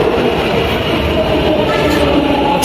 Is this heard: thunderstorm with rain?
no